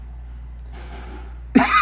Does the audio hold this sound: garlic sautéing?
no